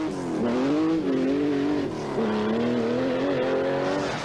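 Rally cars racing flat out on a stage of the 1986 Galway Rally at dusk, loud close engine roar with rising and falling revs held throughout, briefly dipping as gears change.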